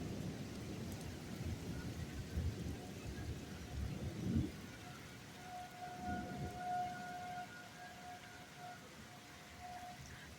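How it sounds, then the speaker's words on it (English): A thunderstorm rolls on with a deep rumble of thunder and steady rain, while a faint siren wails in a long tone in the distance. "Alright, we got our thunder and lightning."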